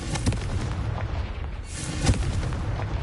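A Confringo blasting spell explodes in Hogwarts Legacy, a dense rumbling burst with a sharp crack near the start and another heavy boom about two seconds in, loud and continuous with no talking.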